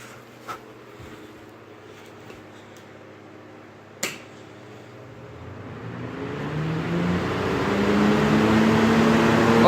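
A weak-motored homemade box fan spins up fast, its whir rising steadily and growing louder over several seconds, with a couple of sharp clicks early on.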